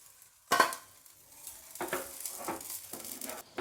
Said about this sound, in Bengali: এটা আপনারা অনবরত নাড়তে থাকবেন